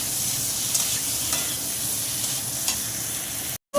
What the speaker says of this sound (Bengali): আলুটা একটু কষা কষা হয়ে গেল